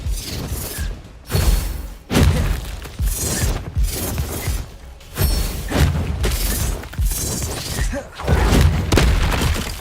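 Bombarda explosion spells in Hogwarts Legacy erupt as a series of loud, booming, shattering blasts, roughly five bursts in quick succession separated by brief lulls.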